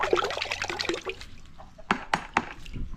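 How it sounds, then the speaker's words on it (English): Running water splashing over a knife being washed outdoors in an Indonesian village, a burst of irregular splashes and drips followed by several sharp spattering gushes, fairly close, with a voice briefly at the start. "We're gonna wash our knife."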